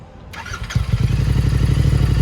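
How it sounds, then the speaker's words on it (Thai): A Royal Enfield Interceptor 650 twin fitted with an aftermarket exhaust cranks briefly, then catches and settles into a loud, close, steady thumping idle, with nobody speaking. "ขออนุญาตฟังเสียงท่อ นะ ครับ อ่ะ สตาร์ทเลย ครับ"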